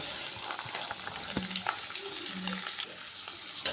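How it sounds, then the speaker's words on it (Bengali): Chopped vegetables frying in hot oil spiced with whole garam masala, a soft continuous sizzle with a few light scrapes and clinks of a spoon, fairly quiet and close, with no voices. "এখানে কেটে রাখা সমস্ত সবজিগুলো আমি একে একে এতে দিয়ে দেব"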